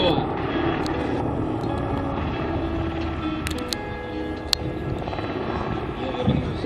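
Mi-28 military attack helicopter, a dual-control Mi-28UB trainer, at the MAKS 2017 airshow in Zhukovsky, giving a steady loud rotor and engine roar through the whole stretch, with wind buffeting and background noise.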